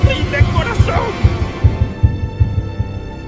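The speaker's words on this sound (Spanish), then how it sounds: "He ahí el latido de su horrible corazón." Heartbeat sound effect: a steady, deep double-thump pulse repeating close and loud about every 0.4 seconds, with a tense low drone and faint tonal shimmer in the background.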